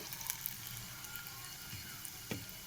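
Homemade chips frying in oil in a pan give a faint, steady sizzle with scattered soft pops and crackles, quiet and close, with no talking.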